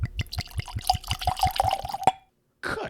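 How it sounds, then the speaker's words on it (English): Bunnahabhain Abhainn Araig whisky pours into a glass: close, steady glugging and splashing with rhythmic pulses for about two seconds, then a brief silence before a softer liquid sound returns. "Whiskey in the glass, man."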